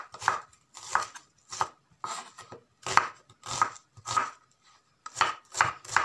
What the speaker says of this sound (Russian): Нарезаем с вами лук.